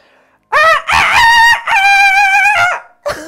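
A person mimics a rooster crowing, giving three loud, strained cock-a-doodle-doo calls in close succession and starting a fourth cut short at the end.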